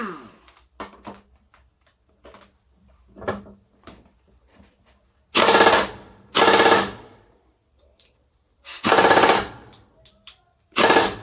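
Several loud, close bursts of a two-wheeler service air impact wrench running at high speed, each a harsh rattling hammer lasting about a second, separated by quieter clicks and handling noises.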